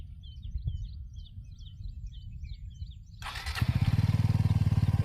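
Adventure motorcycle engine cranks and catches after the ignition is switched on, settling into a steady, close, pulsing idle, with birds chirping outdoors before it starts.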